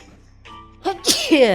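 One loud, close human sneeze, preceded by a short audible intake of breath and ending in a sharp burst.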